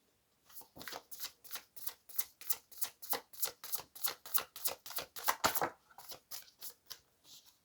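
Tarot cards shuffled by hand in a steady run of about twenty crisp riffling bursts, close and fairly loud, with no talking.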